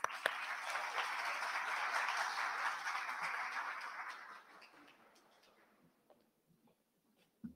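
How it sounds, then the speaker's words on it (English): A university lecture audience applauds to welcome a speaker, a full wash of clapping that holds steady and then fades out over several seconds into near silence, ending with a single sharp knock. "Please, please welcome him with an applause."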